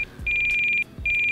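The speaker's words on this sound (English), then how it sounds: "That's my low voltage alarm." A low-voltage alarm on an E-flite Ultimate 3D RC biplane beeps in rapid, steady pulses of a high electronic tone, broken by a brief pause, against low background rumble.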